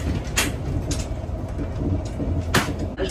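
Inside a moving Siemens Venture passenger train, there is a low, steady rumble with soft rattles and a few brief knocks and clicks, calm and smooth, with no voices.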